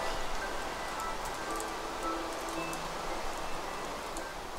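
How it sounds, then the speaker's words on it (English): Rain falling in the video game Minecraft: a steady, even hiss of rainfall with faint scattered patter, continuous and uniform throughout, no voices. "It's raining again."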